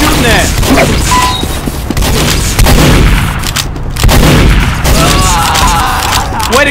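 Gunfire and explosions in the video game Team Fortress 2 fill a loud, dense battle with rapid cracks and booms, while game voices and a player talk over the noise.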